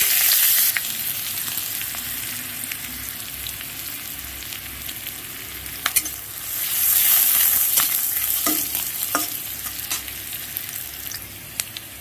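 Chopped onion and whole spices fry in hot oil, a steady, close sizzle punctuated by stirring clicks and scrapes, swelling louder for a few seconds midway.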